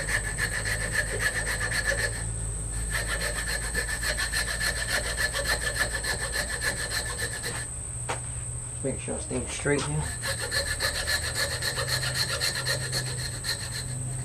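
A small hand saw works through a piece of hardwood for a sword sheath, its rasping strokes steady and close over a constant high insect-like whine, pausing briefly before resuming; someone speaks briefly.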